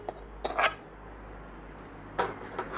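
Moong dal is moved into a pressure cooker in a few short bursts of metal scraping and clinking, a spoon rasping against the pot near the mic, separated by quiet pauses, with no talking.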